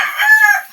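A rooster crows once, close and clear, a single short drawn-out call with no other sound around it.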